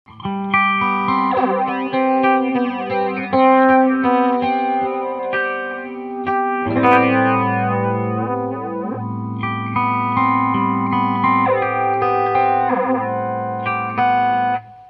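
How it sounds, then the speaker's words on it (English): Distorted guitar chords and notes ring through a PastFx 80/A flanger pedal, its metallic whooshing sweep rising and falling continuously over about fifteen seconds. "this is going to sweep through a lot of really metallic frequencies"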